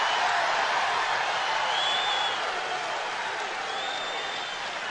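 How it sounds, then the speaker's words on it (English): A partisan pro-Pennsylvania crowd at a 2005 high school wrestling all-star match cheers and applauds in a dense, sustained roar that fills the arena, steady and loud throughout, with faint whistles riding on top. "this obvious pro-Pennsylvania crowd is living large right at the minute"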